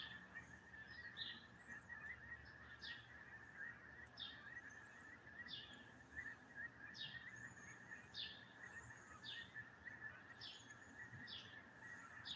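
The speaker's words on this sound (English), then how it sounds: "There's a ton of birds over there." A flock of birds calls near the docks on an early morning, rapid repeated chirps and tweets running continuously through the clip over a faint broadband wash, distant and soft.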